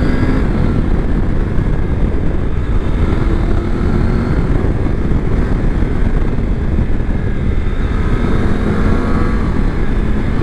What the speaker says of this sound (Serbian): Mnogo lep zvuk na visokim obrtajima kada bruji ovaj motor.